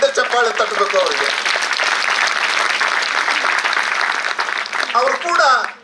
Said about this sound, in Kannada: ಆದ್ದರಿಂದ ಮಕ್ಕಳು ಒಂದು ದೊಡ್ಡ ಚಪ್ಪಾಳೆ ತಟ್ಟಬೇಕು ಅವರಿಗೆ.